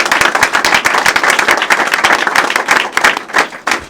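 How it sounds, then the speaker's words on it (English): Brisk applause from a press conference crowd, fairly loud and close, with individual sharp claps standing out in an uneven patter and no talking. "Can I give the community partners a round of applause?"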